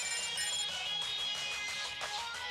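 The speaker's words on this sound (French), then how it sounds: "On a sonné." A doorbell chimes indoors in a cartoon scene, a bright, even electronic ringing that holds steady for a couple of seconds, fairly quiet, with no voices over it.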